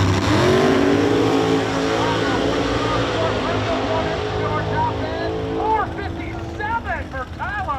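Chevrolet and Ford Ultra Street drag cars race at a drag strip, loud, sustained engine roar that gradually fades into the distance, with an announcer's voice talking over it toward the end.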